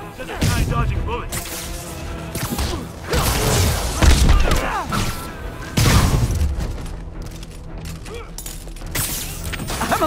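Bursts of gunfire and heavy booms in Marvel's Spider-Man, dense and loud across the whole stretch, mixed with mechanical clatter while voices shout over the action.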